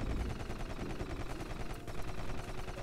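A rapid, unbroken stream of pistol shots pops from the Rusted Moss video game, steady and fairly loud throughout.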